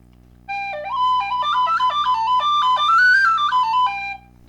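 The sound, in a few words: Irish tin whistle playing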